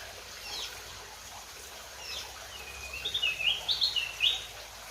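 Magpie robins (kacer) in an aviary give a few faint early calls, then a quick run of sharp, bright chirps near the end over a soft, quiet background.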